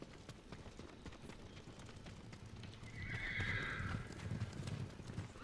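Horses in the Ghost of Tsushima video game whinny and clip-clop, with steady hoof steps throughout and a louder, high neigh rising midway over a faint game ambience.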